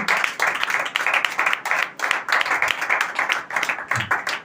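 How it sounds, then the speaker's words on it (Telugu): Church congregation clapping together during a sermon, a dense burst of applause from many hands that keeps up steadily, loud and close, from start to finish. "చప్పట్లు కొడదాం ఒకసారి అందరూ కూడా"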